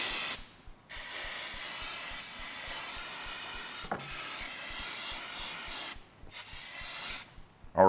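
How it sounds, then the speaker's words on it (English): Brake cleaner sprayed onto a Yamaha YZF-R3 sport motorcycle during its first service, heard as long steady aerosol hisses in several bursts with brief pauses between, close and fairly loud, with no talking. "going to clean this off with a little brake clean."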